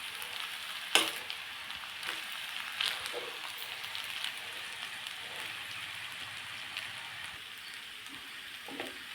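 Veg fried rice sizzles and crackles steadily in a hot pan while being stirred, with a couple of sharp metal spatula clinks against the pan and soft scraping.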